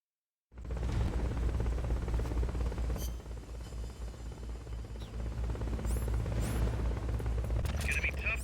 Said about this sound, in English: It's gonna be tough to take out a chopper with the weapons you've got.